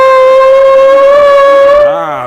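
An old film's siren wails loud and steady as a single sustained tone, rising slightly before bending and sliding downward at the end.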